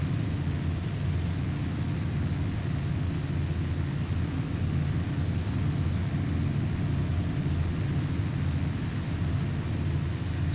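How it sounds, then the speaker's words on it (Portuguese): Fighter planes taking off in a War Thunder-style air battle: a continuous, broad engine roar and rumble, steady and fairly loud throughout about ten seconds, with no voices. "Os caças estão decolando"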